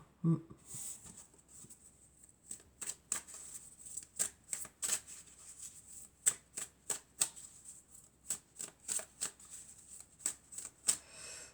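Oracle cards are shuffled close up in a long run of soft, rhythmic riffling bursts, each a quick flutter of card edges, repeating steadily with short gaps and no voices.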